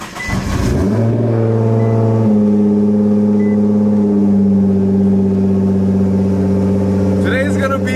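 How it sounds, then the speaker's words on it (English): A tuned widebody Nissan GT-R running on speed density, its engine climbing in pitch at first and then holding a loud, steady droning rev close by. "Now that we have the car tuned and running on a speed density, just the way that it sounds, it's like so crazy."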